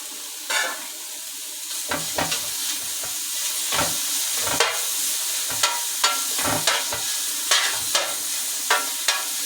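Fatty meat sizzles in hot oil in a pan, a steady bright crackle and hiss running throughout, with repeated stirring scrapes and clinks at a close, even pace.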